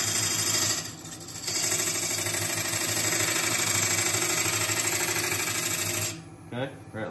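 A skew chisel cuts into a 14-inch bowl blank spinning on a wood lathe, giving a steady, loud grinding whir that drops briefly near the start and cuts off near the end, with a few short scrapes after.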